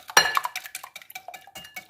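A spoon beats a mixture briskly in a bowl, producing a quick run of clinking, scraping knocks against the sides that starts with a sharp strike and carries on in an uneven rhythm, close by.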